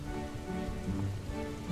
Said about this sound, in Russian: вслушивалась в стук капель за окном